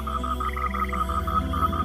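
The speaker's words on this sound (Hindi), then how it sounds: "और नदी से मेंढक बाहर आए।" Frogs croak in a quick, regular train of nasal pulses against a low background rumble, loud and close, with no talking.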